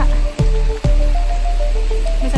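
Heavy rain pours down steadily in a dense close hiss, with a couple of sharp knocks breaking through early on.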